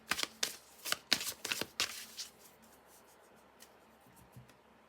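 Oracle cards from a mirror-themed oracle deck being shuffled and drawn, a quick run of crisp riffling flutters and slaps close by, then a few softer taps and card slides trailing off into quiet.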